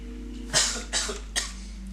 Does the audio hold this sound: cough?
yes